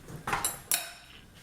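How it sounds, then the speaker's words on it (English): Vegetables tipped back into a soup pot for chicken dumplings, giving two quick close clattering thuds of metal and food against the pot. "I'm going to go ahead and put my vegetables and everything back in here"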